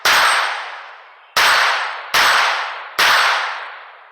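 Four ringing metallic clangs from rifle shots striking 6-inch steel plate targets at a shooting range, each sharp impact followed by a long decaying ring, irregularly spaced about a second apart, with no voices.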